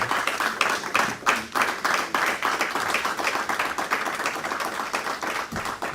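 A public forum audience gives a standing ovation for Professor Kwaku Azar, with loud, dense clapping that goes on without a break and a few sharper claps standing out.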